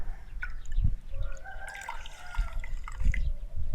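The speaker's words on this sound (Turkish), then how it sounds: "Şimdi buradaki bu suyun içerisine bu bezimi batırarak ıslatacağım." Cloth dipped into a basin of water while cleaning white shoes, giving soft drips and light sloshing at close range, with faint trickling between a few brief splashes.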